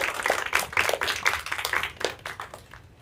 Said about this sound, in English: Round of applause for Cassie and Cassie's dad back there.